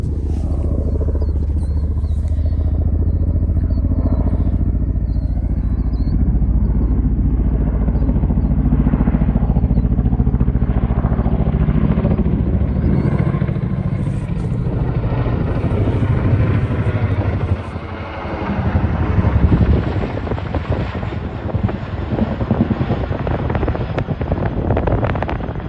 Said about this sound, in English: Oh, look, a Chinook from the Army.